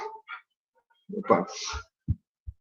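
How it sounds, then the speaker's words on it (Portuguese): A dog wanders into a university economics lecture classroom, giving a few short whimpering yelps followed by soft, low thumps as it moves about the quiet room. A lecturer's voice is faintly present. "um cachorro invadiu aqui a sala de aula."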